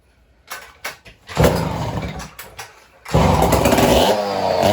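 A vintage Canadian chainsaw engine sputters with a few failed pulls and coughs, then fires and runs with a loud, raspy two-stroke roar, dips briefly, and catches again at full throttle close by.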